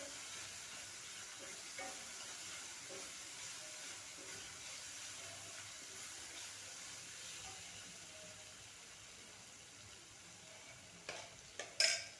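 Rajma curry mixed in a cooking pot, a soft continuous simmer and sizzle with faint occasional scraping, ending in a couple of louder clanks near the end, no speech.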